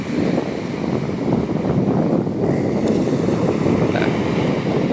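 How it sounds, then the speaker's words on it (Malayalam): Calm sea waves at Alappuzha beach in Kerala give a continuous, fairly loud surf wash mixed with wind rumbling against the microphone, with no voices. "ഇത്രയും ശാന്തമായൊരു കടൽ ആലപ്പുഴയിൽ ഇതിനു മുമ്പ് ഉണ്ടായിട്ടില്ലെന്ന് പറയാം"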